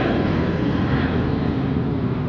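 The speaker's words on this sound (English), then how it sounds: "this is a very interesting aircraft there. A V-tail with the engines on the" A V-tail aircraft passes overhead during an airport display day, its engine giving a steady, loud, broadband roar that holds even throughout with no voices.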